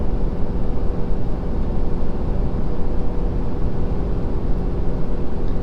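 A truck engine in fourth gear at 2,600 RPM, towing a 25,000 lb gross load up a steep hill, gives a loud, steady, continuous low drone that fills the whole clip without any pause or voice.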